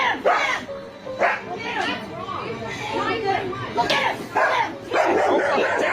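Dogs bark in a store aisle during a confrontation with workers, several sharp barks scattered among loud, agitated human voices and shouting.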